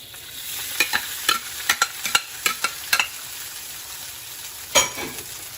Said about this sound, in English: I'm going to smash the rice into the oil.